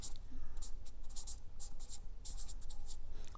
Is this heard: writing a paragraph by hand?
yes